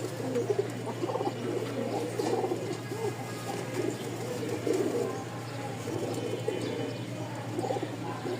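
A loft full of high-flying and fancy pigeons (Giribaz, Lakkha, Lotan breeds) cooing together in a steady, overlapping murmur, fairly quiet and continuous with no single bird standing out.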